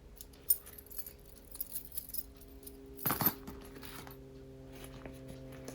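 A bunch of keys jingles close by, pulled from a kangaroo pocket of a travel bag, with scattered light metallic clinks and one brief rattling burst, no voices.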